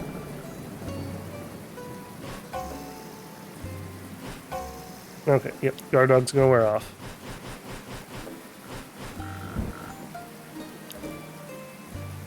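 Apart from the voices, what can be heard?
rain falling in video game Dead in Vinland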